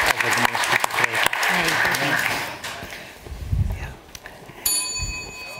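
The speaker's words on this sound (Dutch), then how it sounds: "Nog 1 keer een applaus voor deze gevangenen" An audience at a televised science quiz applauds loudly with steady clapping that gradually thins out, with a few voices and a ringing tone near the end.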